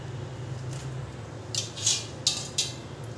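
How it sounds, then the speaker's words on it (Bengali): A knife cuts peeled pointed gourds (potol) into pieces on a board: a few sharp, distinct chops in quick succession after a quiet start, close and clear with no voices. "এরপর আমি পটলগুলোকে কেটে নেব।"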